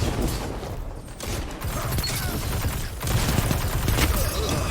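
Dense shotgun fire in the video game Destiny 2, loud repeated blasts and impacts in quick succession, thick with game sound effects and no clear pauses.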